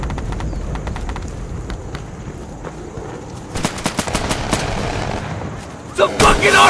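Automatic gunfire and explosive bursts from an RPG firefight in the video game Insurgency, with sharp shots clustering densely in the middle and a loud blast near the end over a steady background din.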